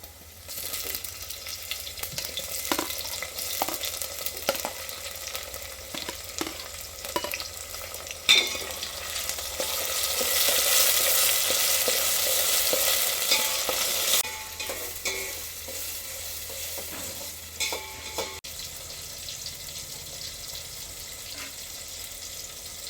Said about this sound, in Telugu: ఇప్పుడు టమాటా ముక్కలు వేస్తున్నా.